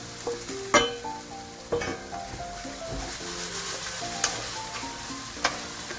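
Chicken and vegetables sizzling in a stir-fry pan with cashews, giving a steady close sizzle broken by several sharp clanks and scrapes as a utensil tosses the food, with no talking.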